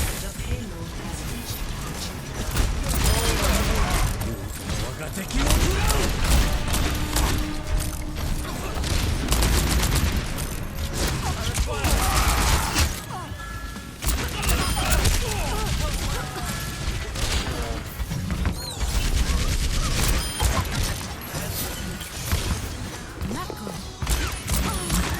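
Sustained gunfire in a video game, shots pounding against a barrier in dense rapid bursts with crashing impacts, running loud and continuous as a person talks over it.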